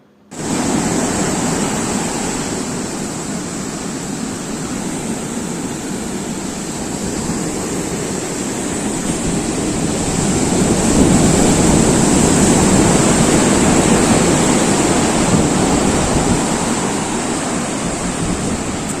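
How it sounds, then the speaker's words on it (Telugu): Big ocean waves roar continuously at Divis Bridge Beach in Visakhapatnam, a broad steady wash of surf that swells louder midway through, with no voices. "చాలా పెద్ద పెద్ద అలలు అనేవి వచ్చేస్తున్నాయి కదా"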